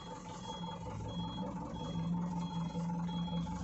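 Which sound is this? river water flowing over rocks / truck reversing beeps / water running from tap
truck reversing beeps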